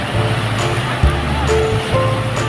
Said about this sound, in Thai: ฟังเสียงคลื่นเสียงบรรยากาศธรรมชาติที่ทะเลเนาะค่ะ